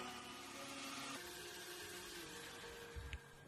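A kitchen mixer grinder blending watermelon juice with the lid on, a steady faint motor whir running throughout, with a short knock near the end.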